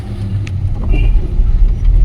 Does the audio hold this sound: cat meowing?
no